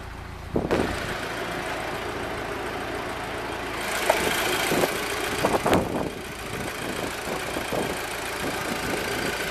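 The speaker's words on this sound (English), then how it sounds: "It's got a 2-liter turbocharged TSI inline 4-cylinder." A 2013 Volkswagen Golf R with a 2-liter turbocharged TSI inline four-cylinder idles steadily, a close engine drone broken by a few brief clunks and bumps.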